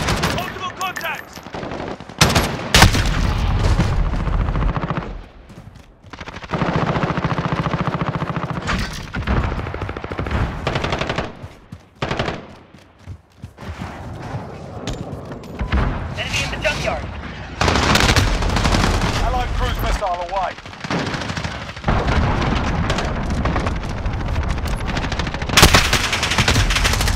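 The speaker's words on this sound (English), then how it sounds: "Got a sentry gun on station." A sentry gun lets off rapid machine-gun fire in Call of Duty: Modern Warfare, close and loud, in repeated long bursts with short gaps and some heavier booms, while game voices talk at times.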